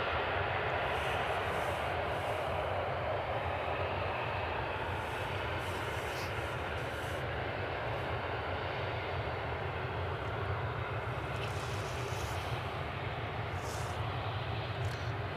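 A West Atlantic Boeing 737 on a foggy evening runway at East Midlands Airport gives a steady, distant engine rumble and roar that holds evenly throughout, alone without talk.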